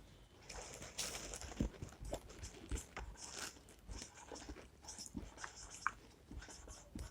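Chalk or marker scratching across a board during a chemistry lecture, a series of quiet irregular strokes and taps with short pauses, close by and without talk.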